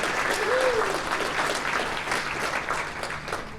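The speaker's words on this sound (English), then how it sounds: "I hope you all can give them a round of applause." A room of attendees at a multiple sclerosis advocacy event gives sponsors a sustained round of applause, dense and loud, with a brief voice tone rising over the clapping early on.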